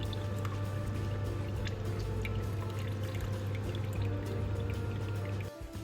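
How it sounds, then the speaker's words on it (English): Water poured back into a glass distillation flask in a hydrolysis setup, a continuous trickling, splashing pour with a steady low hum beneath, fairly close and unbroken until it cuts off abruptly at the end. "just pouring water back in"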